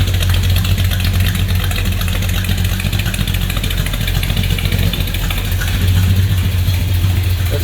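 A 1969 Dodge Super Bee muscle car engine idles steadily nearby, a deep, even rumble with a low throb that holds without revving.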